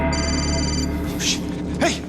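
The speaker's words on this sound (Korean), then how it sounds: "전화 왔어" A phone rings in the zombie video game Dead Rising 3 on Xbox One, a short electronic trill layered over busy in-game ambience and effects.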